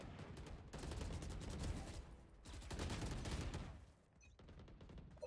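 Rapid gunfire in the Valorant video game, dense bursts of automatic shots in two long volleys with a brief lull between, heard at moderate level without talk.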